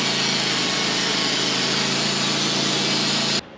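A sawmill cuts a pine log into lumber, a loud, steady high-pitched whine of the blade running through the wood that stops abruptly at the end.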